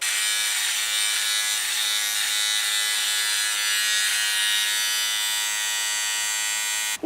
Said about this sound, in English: And I'm going to keep shaving with OneBlade.